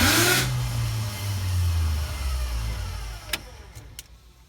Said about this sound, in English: I'm about to fire up the Valiant for the first time